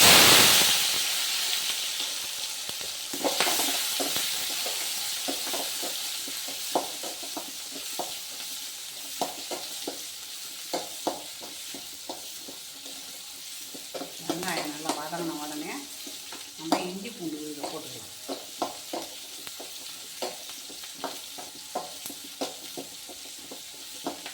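Onions drop into a hot pan for a goat bone soup, bursting into a loud hiss that gradually settles into a quieter, steady sizzle punctuated by stirring clicks and scrapes, with a brief sound in between.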